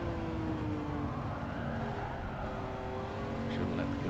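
A race car in a racing video game slides through a corner with tires squealing over a steady engine drone, the squeal rising and falling across the clip, with a voice talking over it.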